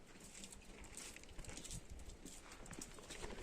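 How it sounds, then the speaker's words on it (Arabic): Donkey hooves clip-clop steadily on stony ground while the animal is ridden, a close, irregular patter of hoof strikes with faint background noise and no speech. "غادي راكب على الحمار"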